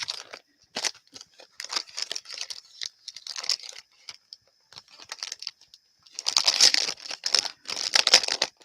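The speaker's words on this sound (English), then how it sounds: "I'll get my skinny tape out and we'll tape down this pocket" Thin tape peeled and torn from a roll to fix down a paper pocket in a handmade journal, a series of close crinkling, ripping bursts with short pauses, louder and more continuous toward the end, no talking.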